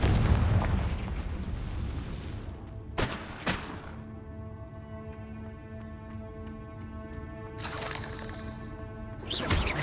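Confringo blasting-spell explosions in Hogwarts Legacy: a sharp booming blast near the start and another around the three-second mark, a ringing tonal hum between them, then two more loud bursts toward the end.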